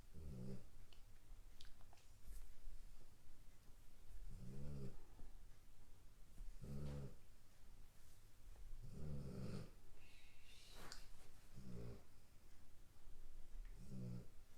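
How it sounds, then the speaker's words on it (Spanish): A small female dog snores in steady, rhythmic breaths about every two seconds. Each snore is a soft, low, rumbling rasp heard close by, over a faint constant background hum. "esa es la perrita que está roncando"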